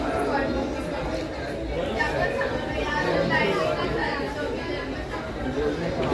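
Dense crowd chatter from many voices at the Ekvira Aai palkhi procession, a steady continuous murmur of people talking close around without pause.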